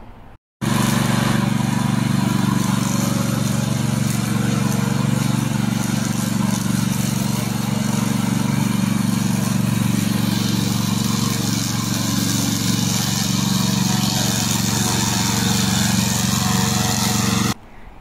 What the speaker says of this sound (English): We mainly produce remote control lawnmower in China